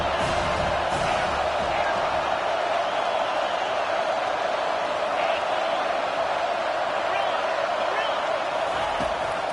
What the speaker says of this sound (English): third down as the crowd gets behind this defense